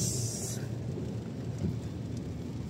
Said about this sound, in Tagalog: sana ay hindi po masyadong lumakas yung ulan